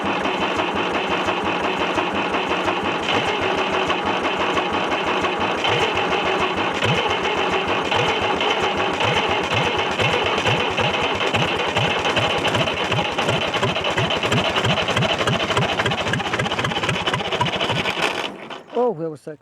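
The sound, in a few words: old International tractor diesel engine running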